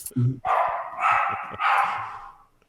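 Dogs bark close by in a home during a pandemic-era podcast, with a short yip followed by three long, loud, strained barks in quick succession.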